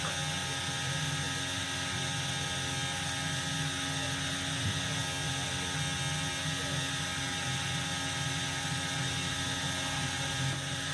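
A sewing machine stitches the lining of a swimsuit bra cup in one continuous run, its motor giving a steady, fast mechanical whir with a rapid needle rattle, close and unbroken from start to finish with no talking.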